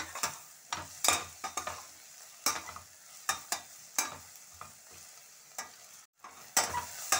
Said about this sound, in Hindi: अभी प्याज हमारा आधा ही भुना है, अब आधा ही हम इसको लहसुन अदरक के साथ भुनेंगे